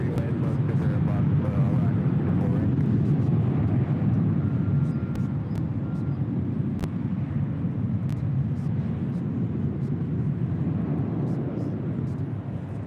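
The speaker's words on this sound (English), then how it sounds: "This departure is Southwest Airlines 2323 departing to El Paso, Texas. 737-700." Southwest Airlines Boeing 737-700 departing LAX for El Paso, a steady loud jet roar and rumble holding for about thirteen seconds, with faint voices and scattered clicks in the background.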